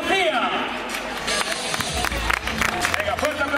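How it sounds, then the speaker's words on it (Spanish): Crowd clapping and cheering for runners at a cross-country race awards ceremony in Falces, dense outdoor applause mixed with babble and voices throughout. "Enorme aplauso para ellas"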